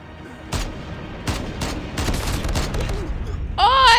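Gunfire in the Call of Duty Mobile game during a sniper clan war: sharp shots and bursts repeat across the clip, close and loud, with a tonal game effect near the end.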